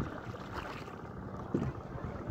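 A boat moves across floodwater in Sylhet, heard as a soft, steady wash of water and wind noise at a low level, with one brief louder knock or splash partway through.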